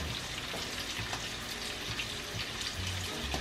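Veal cutlets sizzling and frying in a hot pan while making veal scallopini, a steady close crackle and hiss with occasional faint stirring, with no talking.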